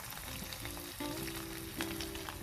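Chicken pakora fries in hot oil with a steady, dense sizzle throughout, close and fairly loud, while faint tonal hums and a light stirring scrape sit underneath.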